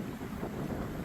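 Strong wind buffeting the microphone on the Mekong riverside in Vientiane, a dense continuous roar with gusty low rumble, loud and close, with no voices.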